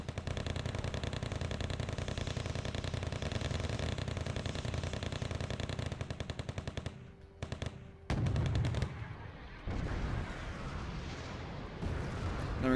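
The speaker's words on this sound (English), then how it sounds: "Then we got some HE mortars landing, trying to hit the infantry." High-explosive mortar shells land in a Wargame: Red Dragon real-time strategy battle, a dense stretch of rapid, loud, rumbling gunfire-like blasts followed by a few heavier separate impacts and a quieter tail, with no voices.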